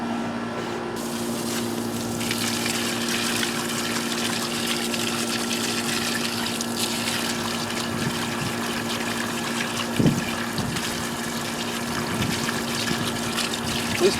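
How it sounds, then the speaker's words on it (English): A garden hose rinses freshly harvested carrots, some of them purple, with a steady close spray and trickle of water running throughout, broken by a few brief handling knocks and no talking. "Now I'm going to take the hose and give them a little rinse."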